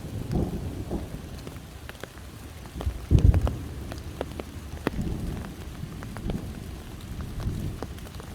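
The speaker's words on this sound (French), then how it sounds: "c'est l'orage" A thunderstorm with steady rain pattering on surfaces, crisp drops tapping throughout, and a brief low rumble of thunder near the middle.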